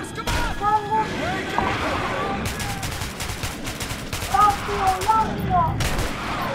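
Gunfire bursts from the video game Metro Redux crackle through a chaotic fight, with shouting voices over the shots and a constant din of battle noise.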